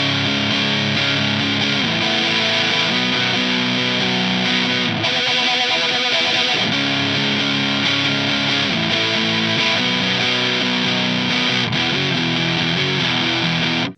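Distorted electric guitar with a phaser plays the chord sequence from a song, a loud, continuous run of sustained chords with slides and a couple of brief breaks, no voice.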